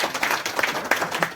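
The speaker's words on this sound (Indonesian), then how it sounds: "Tepuk tangan untuk MPA Pandu" A short burst of lively clapping from an assembled group applauding MPA Pandu, close and moderately loud with uneven hand claps.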